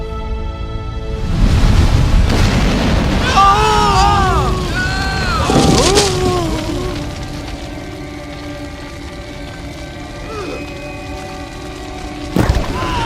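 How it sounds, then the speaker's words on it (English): Heavy rumbling booms of fire striking from heaven in a dramatized Bible story of Elijah and the prophets of Baal, layered with swooping, wailing tones and a sharp crack near the end, loud throughout. "Fire from heaven!"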